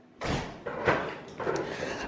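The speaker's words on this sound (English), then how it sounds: "I'm going to close the door." A room door swinging closed in a home, several soft, close thumps and rattles in quick succession.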